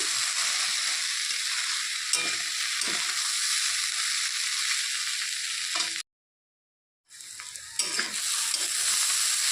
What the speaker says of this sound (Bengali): ঢাকনা খুলে আবারও একটু ভালো করে নেড়ে চেড়ে দিচ্ছি